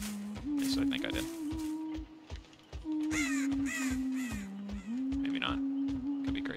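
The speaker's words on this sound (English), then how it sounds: "Saw a crow take off there." Crow caws in the game Dead by Daylight on the Asylum map, several harsh calls in short bursts under a steady low drone, with someone talking over them.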